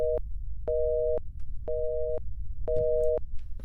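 An old-style telephone gives a busy signal in a video game, four evenly spaced two-tone beeps in a steady on-off rhythm, clear and fairly close over a low background rumble.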